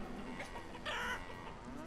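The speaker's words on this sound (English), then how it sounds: "but God, the noise those chickens make" Chickens in a video game cluck in a steady, rather faint stream, with a brighter cackling stretch midway over constant background noise.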